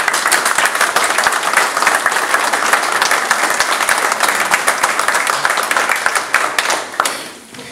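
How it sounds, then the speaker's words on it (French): An audience applauds firefighters at a Sainte Barbe ceremony, a dense, steady burst of clapping that holds loud for about seven seconds and then thins and fades near the end. "Merci à eux, vous pouvez les applaudir."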